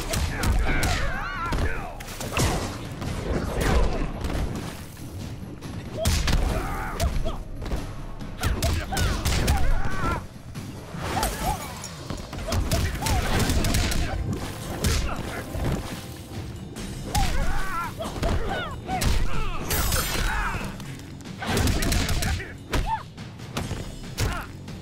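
Mortal Kombat XL fight, with Liu Kang in the Living Tower: a steady stream of punches, kicks, heavy thuds and crashes in close succession, loud and busy, with occasional grunts and announcer voice mixed in.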